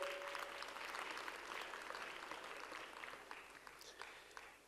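Conference audience at a mining finance panel gives a warm round of applause, quiet and distant clapping that starts full and gradually thins and fades.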